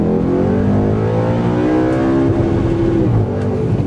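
A rear-mounted engine in an Audi R8 sports car roars loud and close, holding a steady, dense drone with slight rising revs throughout.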